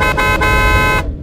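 A car horn blares in a driving video game with a Toyota Fortuner in a VIP convoy, one loud, sustained toot lasting about a second before cutting off abruptly.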